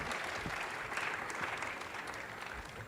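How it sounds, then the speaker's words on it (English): Debate audience at a political party general assembly in Paris applauding its candidates, a dense, steady wash of clapping that stays loud and even from start to finish with no voices rising above it. "please applaud your candidates"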